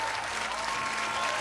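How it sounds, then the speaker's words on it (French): A studio audience on a French television singing game show claps in dense, sustained applause, loud and even from start to finish of the short burst. "applaudissez-la fort"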